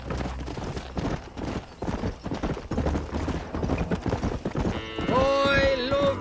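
Horse hoofbeats in the video game Red Dead Redemption clip-clop in a steady rhythm under a continuous low rumble, then a horse whinnies near the end.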